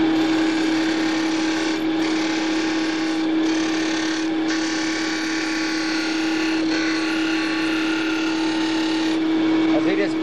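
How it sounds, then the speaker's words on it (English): Belt sander trimming the edge of a workpiece, a loud continuous motor whine with a steady tonal hum and grinding hiss, slightly dipping as pressure shifts, with no pauses. "I want to trim this whole edge on a belt sander"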